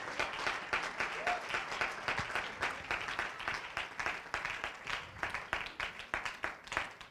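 A church congregation applauds steadily throughout, dense overlapping clapping that swells and pulses in waves, filling the room with no voices standing out.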